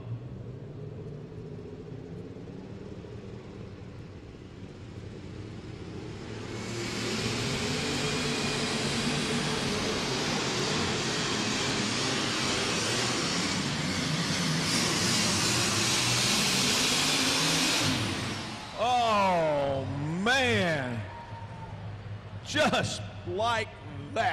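A light super stock pulling tractor roars at a tractor pull in Louisville, Kentucky, its engine swelling into a loud sustained roar mid-clip before revving in rising and falling bursts, with an announcer talking over it.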